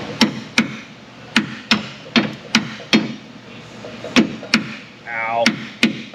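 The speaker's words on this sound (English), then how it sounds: "We gotta hammer it on, break it loose, and impact it off." Sharp metallic hammer blows drive a socket onto a rusted strut bolt on a Honda, striking repeatedly at an uneven pace, close and loud, with a faint voice murmuring between some hits.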